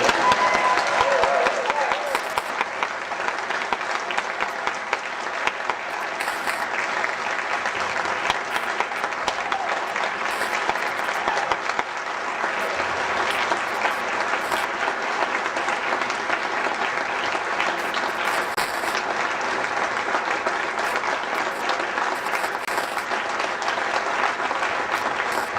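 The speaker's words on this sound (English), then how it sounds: "Applause." An audience at a Rotary district conference presentation applauds in a dense, sustained roar of clapping that holds steady and loud for the whole stretch.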